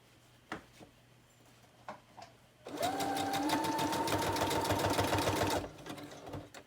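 A sewing machine stitches through paper strips in a steady, rapid mechanical whir lasting about three seconds, preceded by light handling clicks and taps in a quiet room.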